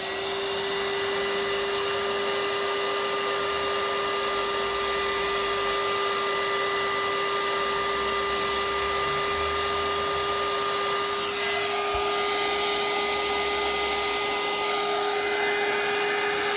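A heat tool blows hot air to dry embossing powder, giving a loud, steady whining hum with a strong constant tone that runs without a break, shifting slightly near the end.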